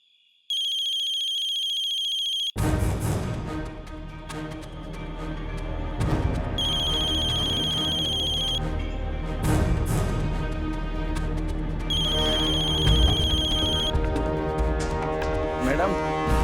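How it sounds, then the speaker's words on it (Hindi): A ringtone from a mobile phone rings in three loud, steady bursts over a dramatic TV scene. Music and voices run underneath and continue after the ringing stops. "आपका फोन बज रहा है।"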